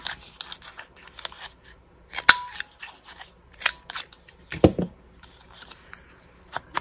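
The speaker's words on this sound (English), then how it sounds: "maybe what I'll do is trim the corners on this one" Scissors snip the corners off a handmade craft tag in a few quick, sharp cuts scattered among soft paper shuffling and light handling noises, close and fairly quiet.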